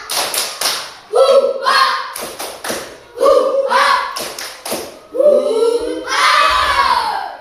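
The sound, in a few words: children doing tepuk semangat clapping routine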